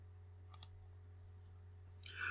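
Computer mouse clicked on Open in Microsoft Access: a quick double click, close and faint, over a low steady hum.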